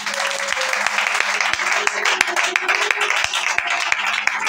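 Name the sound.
congregation applauding in church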